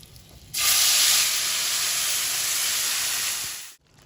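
Tomato paste for a spicy momo sauce hits a hot pan with a sudden loud hiss that holds steady for about three seconds, then fades and cuts off, with no voices.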